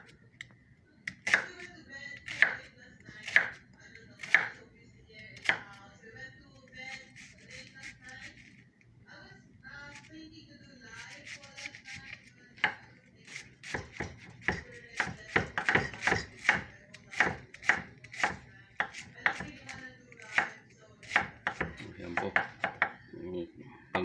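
A knife chops rapidly on a cutting board while ingredients for salmon fried rice are prepared, with bursts of sharp, close, regular strikes and short pauses between runs.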